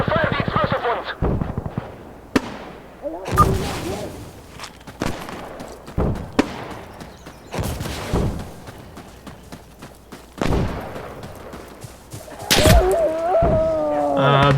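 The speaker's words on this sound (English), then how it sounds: "We will fire the explosive ones." Explosive mortar rounds and gunfire in the video game Insurgency Sandstorm: scattered loud booms and sharp cracks with rumbling tails, mixed with voices talking in between.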